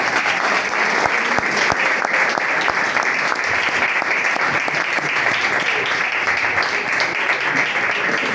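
A church congregation at an anniversary service claps together in steady, full applause that fills the room for several seconds, close and loud, with faint voices mixed in.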